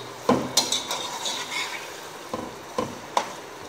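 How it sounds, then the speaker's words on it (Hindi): Chicken frying in masala in a pot, with a soft sizzle under irregular scraping and clinking of a spoon stirring against the metal, close and moderately quiet. "चिकन ऐड कर लिया है और अब हम इसको भूनेंगे"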